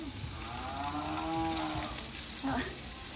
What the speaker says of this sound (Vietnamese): con bò nó giống hoài ta